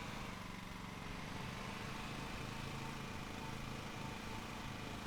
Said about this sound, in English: Oh, I really don't like the sound of the engine.